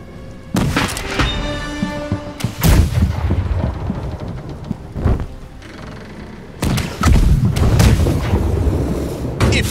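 Ship cannons firing in the Blackwake naval combat video game, loud booming blasts in several heavy volleys with rumbling tails and crashing impacts, close and dominant, without talk.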